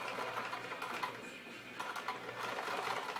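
A sewing machine runs on its longest stitch setting to topstitch a pouf cover, a steady faint mechanical whirr with rhythmic needle pulses and a slight slowdown midway, no talking.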